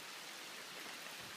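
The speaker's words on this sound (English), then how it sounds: "It's raining" Steady rain falls on a wooded trail area near Roaring Brook, a dense, even hiss with no breaks and no voices.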